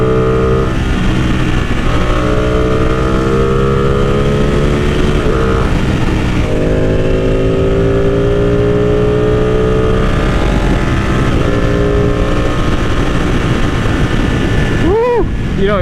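A Ducati Panigale 899 motorcycle engine drones loudly throughout a ride, revs climbing and dropping through several gear changes under heavy wind rush, with a brief burst of throttle near the end.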